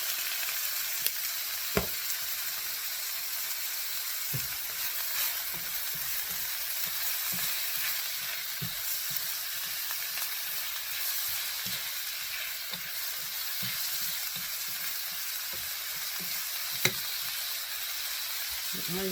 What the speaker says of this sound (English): The onions popping out.